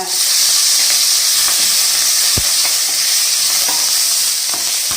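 Dried red chillies and curry leaves fry in hot oil for a South Indian sambar-style kuzhambu, giving a steady loud sizzle and crackle throughout with a single sharp pop near the middle.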